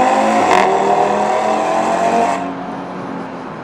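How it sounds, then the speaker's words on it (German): Audi TT RS Mk. V pre-facelift engine accelerating hard at full throttle on a road straight, a loud, rising engine roar that eases off after about two and a half seconds. "Jetzt werde ich das Gas mal stark durchtreten."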